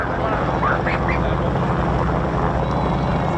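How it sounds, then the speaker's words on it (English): A North American Harvard's radial piston engine roars at an air show, a loud, steady, rasping drone held throughout with a commentator talking over it. "here's a North American aeroplane making a rather different sound."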